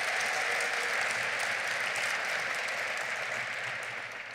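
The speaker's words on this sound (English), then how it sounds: "Let's give them all a big round of applause." Audience at a community gathering applauds, a steady, full round of clapping that runs throughout and thins slightly near the end, with no speech over it.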